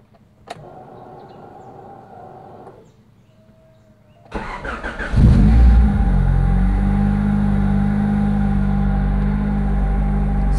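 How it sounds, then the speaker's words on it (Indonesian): A Honda Civic Ferio starts up and settles into a steady, loud idle as it warms toward operating temperature before an engine flush, preceded by quieter clicks and an electric whir. "Sebelum kita masukkan engine flush ke dalam mesin, kita panaskan dulu mesin mobilnya sampai mencapai suhu optimum."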